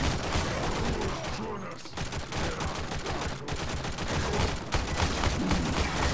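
Gunfire in the video game Warframe comes as dense, loud rapid bursts, sustained and close, broken by a couple of brief pauses.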